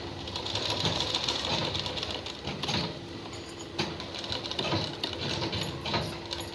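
Electric sewing machine stitching a neck design on a garment, a steady close whir running almost continuously with brief slight dips, no talking.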